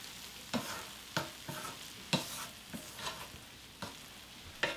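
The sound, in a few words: stir-frying dried radish greens (siraegi) with onion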